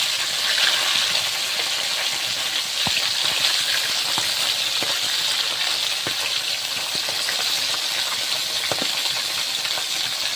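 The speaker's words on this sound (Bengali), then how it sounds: "মাছ ভাজা হয়ে গিয়েছে আর তুলে নিচ্ছি।" Big tilapia pieces frying in oil: a continuous close hiss and crackle at an even level throughout, dotted with small sharp pops and spatters, with no voices over it.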